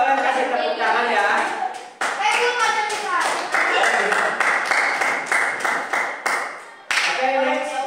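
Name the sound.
class clapping hands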